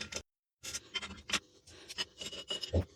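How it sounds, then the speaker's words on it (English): Small scraping and rasping sounds of a 5mm Allen key turning the two securing screws out of a laminated wood stock on a Daystate Redwolf air rifle, several short close bursts around a brief silent gap. "I'm going to be doing that by using a 5mm Allen key just to remove the two securing screws"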